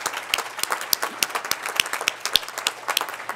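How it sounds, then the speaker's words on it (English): A conference audience at the 2010 Missouri Health Policy Summit applauds its panel and speakers with a close, dense round of hand clapping that holds steady for several seconds. "Can we just give all of them a round of applause?"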